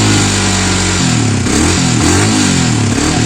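A Yamaha Vixion motorcycle engine revs hard and steadily at high RPM, loud and close, with the pitch shifting as the throttle is worked.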